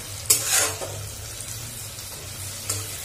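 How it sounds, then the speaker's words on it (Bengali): Onion, tomato, ginger and garlic paste frying together in a pan, with a steady sizzle, a few sharp stirring scrapes, and a low background hum. "পেঁয়াজ টমেটো আদা রসুনের পেস্ট সব কিছু একবারে দিয়ে ভেজে নিচ্ছি"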